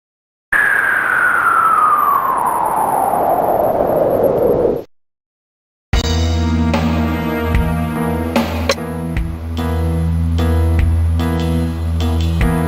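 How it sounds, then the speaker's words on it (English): A loud wailing police siren in a video game sweeps downward and cuts off, then a dense mix of engine noise and overlapping sounds follows after a brief silence. "Those police cars stopped here."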